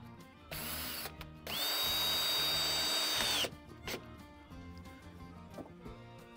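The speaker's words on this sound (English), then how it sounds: "Little self-tapping screws. I've got to tell you, they work slick." A power drill drives small self-tapping screws while a studio desk is being built, with two close whirring bursts, the second longer and rising in pitch before cutting off, and small clicks around them.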